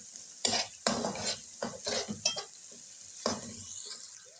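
Ginger garlic paste is stir-fried in a pan, with repeated scraping strokes of a spoon and a bright sizzle running underneath, close and fairly loud.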